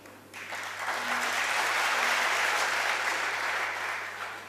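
An audience at a Hindi speech bursts into applause, a dense sustained clapping that swells quickly, holds loud and even, then starts to fade toward the end.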